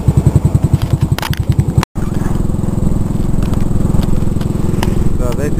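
A motorbike rides along roads on Koh Lanta island, its engine chugging close and loud with a steady rhythmic throb, a brief dropout, then a continuous rumble with wind and road noise.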